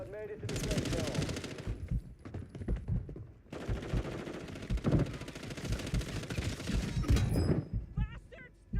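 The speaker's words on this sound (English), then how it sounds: "They're shooting at me!" Rapid bursts of automatic gunfire in the Warzone battle royale video game, close rattling volleys broken by brief pauses, with a voice talking over the shooting.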